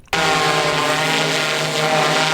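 A surveillance drone with a 30x zoom camera and thermal imaging flies close by, its steady, loud rotor whine and harmonic buzz holding constant from the start after a brief quiet moment.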